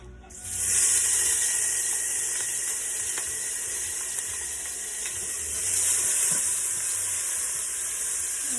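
Onion and vegetables frying in a pan for vegan pumpkin soup, a steady hiss and sizzle that swells after a moment and carries on evenly, with faint clicks over it.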